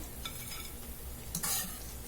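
Cauliflower gobi pieces deep frying in hot oil, a soft continuous sizzle with a few stirring scrapes and a brief louder burst near the end, no talk.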